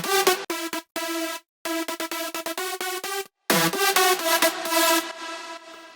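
A bright, buzzy synth lead drop made in FL Studio pulses in choppy, sidechained bursts with a sweeping EQ filter, broken by short gaps and a sudden low swoop midway, loud and alone.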